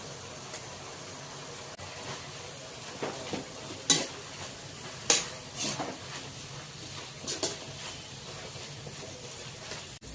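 Seven or eight crushed garlic cloves sizzle quietly in tempering oil with turmeric, under repeated sharp clinks and scrapes of a metal spoon against the pan.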